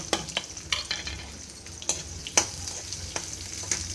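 Onions, cumin, mustard seeds and curry leaves fry in oil for a cluster bean curry, giving a steady soft sizzle with several sharp pops and spatters, close and moderately quiet, with no voices.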